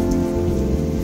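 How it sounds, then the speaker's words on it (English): Steady rain falls outdoors in a dense, even hiss of drops hitting surfaces, loud and continuous for a brief moment, with no voices. "it seems to rain, I swear."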